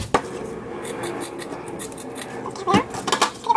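A knife cuts the tail off a dried pollock, giving a few sharp scraping clicks near the end, close and brief, over a quiet kitchen background.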